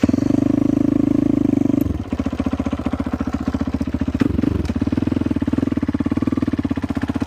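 A 2014 Husqvarna FC 450 dirt bike engine idles while still cold: a steady, loud, close thumping idle that dips briefly and then evens out again.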